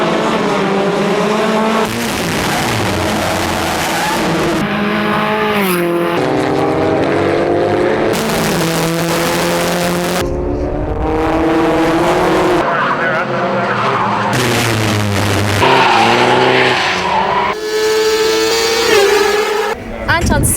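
Formula Sheane race cars lap Mondello Park, loud and close, their engines rising and falling through gear changes in continuous waves as cars pass one after another. A tire squeal cuts through now and then, and a voice talks over the racing.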